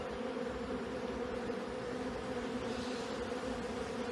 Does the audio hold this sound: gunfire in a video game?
no